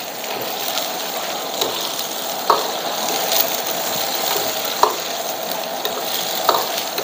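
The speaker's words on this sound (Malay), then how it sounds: "Goreng sampai dia masak." Oily sizzling from chicken liver, heart and gizzard frying in a wok, with a steady hiss and a few sharp scraping stirs spaced a second or two apart.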